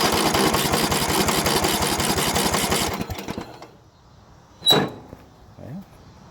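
An old Bolens riding mower engine cranks over with a rapid, even mechanical chugging for about three seconds, then stops, followed by a brief clunk and a short sound in the near quiet.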